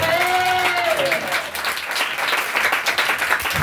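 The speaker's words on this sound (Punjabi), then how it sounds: "ਕੀ ਪ੍ਰਭੂ ਦੀ ਤਾਲੀਆਂ ਵਜਾ ਸਕਦੇ ਹੋ" A church congregation claps for the Lord in sustained, dense applause that fills the room; a voice briefly rings out over it at the start.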